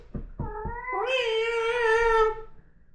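A cat gives a long, drawn-out meow that swells into a loud, wavering caterwaul lasting over a second, preceded by a few soft thumps; no one speaks.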